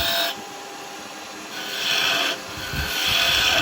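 A carbide tool cuts into spinning wood on a lathe while a spinning top is turned, giving a close, steady scraping hiss that swells and eases in a few long passes over the hum of the machine.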